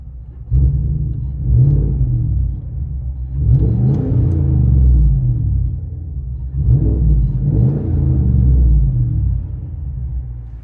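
Cabin view of a 2016 GMC Sierra Denali's 6.2L V8 with straight-pipe 2.5-inch dual exhaust and 4-inch tips, a loud deep rumble swelling through several rev surges and settling between them.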